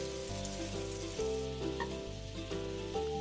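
Moong dal roasts in ghee while being stirred, making a soft, continuous sizzle with a steady tonal melody running underneath.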